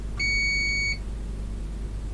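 A multimeter gives one short, clean electronic beep while testing a diode, lasting under a second, then falls silent against a quiet background.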